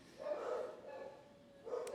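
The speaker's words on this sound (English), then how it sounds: "So much barking." A dog barks a few times in moderately faint, muffled bursts, with a short pause between them, over a quiet background.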